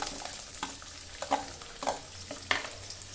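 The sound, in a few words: chopped garlic frying and being stirred in pan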